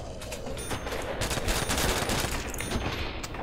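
Dense rapid gunfire in Call of Duty: World at War custom zombies on the map Abandoned, a continuous loud burst of automatic shots with no gaps.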